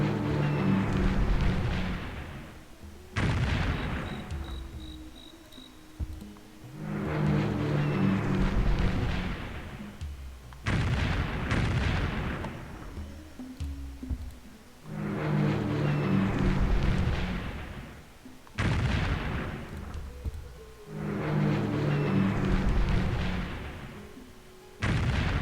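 Bombers strike a city in Civilization III with repeated cycles of heavy booming bombardment, each burst of rumbling explosions and a droning tonal pattern followed by a sharp hit, recurring about every five seconds.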